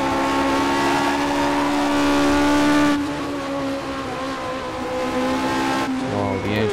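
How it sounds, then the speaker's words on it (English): Classic six-wheel Tyrrell race cars, including the P34, howling around Silverstone in rFactor 2: a loud, sustained high-revving engine tone with a gear change and shifting pitch, no talk. "Wow, the engine sound is amazing."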